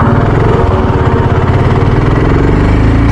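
A BSA Gold Star 650 motorcycle's single-cylinder engine running steadily, a loud close thumping idle with a continuous rough rumble and no talk.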